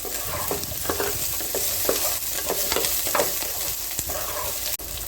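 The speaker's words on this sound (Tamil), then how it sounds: "நல்லா பூண்டு நல்லா ஃப்ரை ஆனதும் வெங்காயத்தை" Onion tossed into a pan of frying garlic for squid chilli fry sizzles loudly up close, with repeated spatula scrapes and stirring knocks over a constant hiss.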